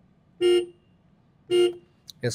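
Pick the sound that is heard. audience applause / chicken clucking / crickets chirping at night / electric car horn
electric car horn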